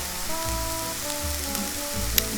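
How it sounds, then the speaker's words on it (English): Butter sizzling in an Aldi cast iron Dutch oven, a steady soft crackling hiss with low musical tones playing underneath. "I started by melting some butter in this beautiful Aldi cast iron Dutch oven"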